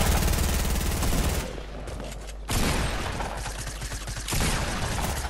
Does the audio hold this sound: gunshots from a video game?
yes